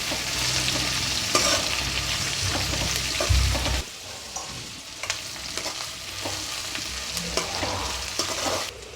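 Sliced onions fry in oil in a pan, a steady sizzle with scraping stirs and clinks of a utensil, loud at first and then softer and more intermittent.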